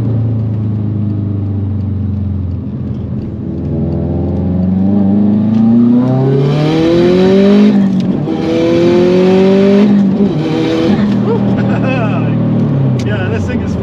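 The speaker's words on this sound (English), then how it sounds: "Looks like we got a green light, so I'll give it full power and see how it does." A 2005 Subaru Impreza WRX STi sedan on a public road idles, then accelerates hard at full power through several gears, the engine note climbing and dropping with each shift, loud from inside the cabin.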